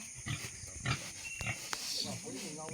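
A pet pig on a farm grunts and snorts in short bursts, close by, while people talk over it.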